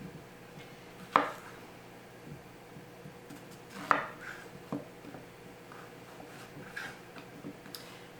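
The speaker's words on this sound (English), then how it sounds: "And then we're just going to want to chop everything up." Knife chopping carrot, zucchini, red pepper and onion on a cutting board in a home kitchen, a few sparse, fairly faint knocks spread out over a quiet room.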